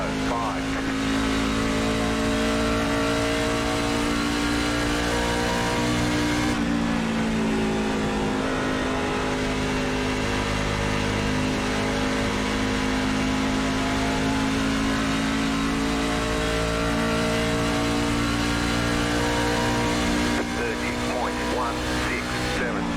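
NASCAR trucks racing at Nashville in the iRacing game, a steady, loud engine drone that holds a constant pitch with brief shifts, running continuously for the whole stretch under commentary.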